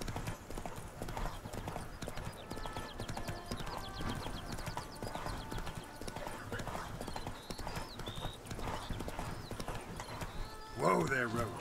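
The horse Roach in the Witcher 3 video game trots with a rapid, steady clip-clop of hooves over a background of game music and ambience, ending in a short whinny as the rider pulls up.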